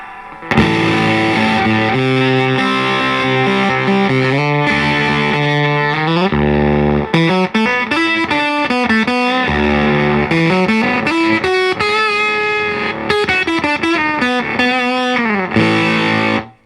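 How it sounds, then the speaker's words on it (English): Thick octave fuzz electric guitar through a Blackout Effectors Twosome pedal, with an octave-up edge, plays chords and quick single-note runs, loud and close, continuous for the whole stretch. "it's got kind of an octave fuzz thing to it"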